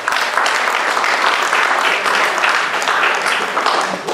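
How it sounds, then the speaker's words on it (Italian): Loud, dense applause fills a hall after a performance of a musical work at an evening event on sculpture, holding steady without a break. "ancora un applauso"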